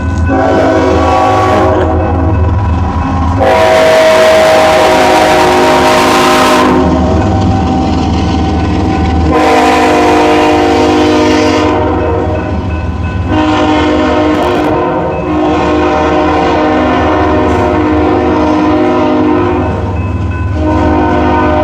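A train rolls past in Davenport, its loud horn sounding in several long blasts over the steady rumble and clatter of the rail cars, close and dominant throughout.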